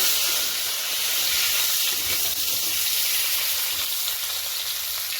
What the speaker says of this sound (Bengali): মাছ ভাজার তেলের মধ্যে আলু কাটিটা একটু ভেজে নেব।